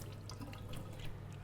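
Paint brushes being rinsed under a running tap in a sink, a steady close stream of water splashing over the bristles with faint dripping throughout.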